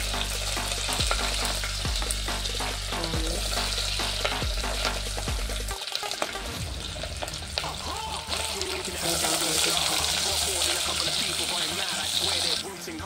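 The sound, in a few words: green chilies added to frying masala, sizzling and stirring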